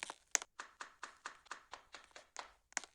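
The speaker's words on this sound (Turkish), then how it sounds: "Kapı çalıyor." A door is knocked on in a Turkish family drama series. About a dozen sharp, close knocks come in a fast, even rhythm, with no talking.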